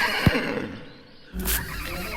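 A warrior's horse in an animated epic lets out a short, loud neigh near the start, followed after a pause by a second whinny with a hoof clip-clop under it.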